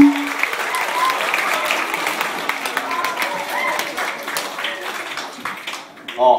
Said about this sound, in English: Big round of applause for Andrew McDonough